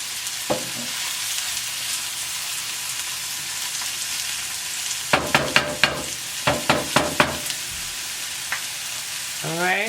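Stuffed chicken sautéing in a single pan, a constant dense sizzle close by, joined midway by a quick series of sharp metallic taps and scrapes from a utensil, with no talking.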